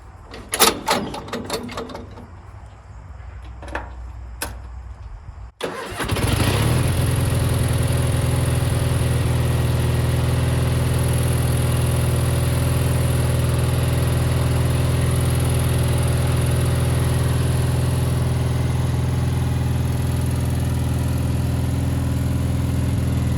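A 1980s Gravely riding tractor mower engine starts abruptly after a few faint knocks and clicks, then settles into a loud, steady, close running drone for the rest of the clip.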